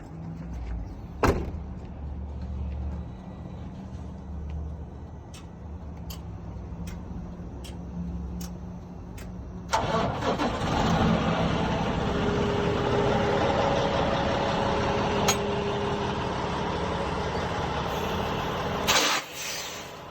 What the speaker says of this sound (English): we're going to hop into the truck. We're going to pull ahead approximately 6 inches, just enough to get off the pin